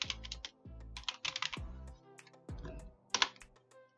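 Keys on a computer keyboard clack in quick bursts of close typing, separated by short pauses, with no talking over them.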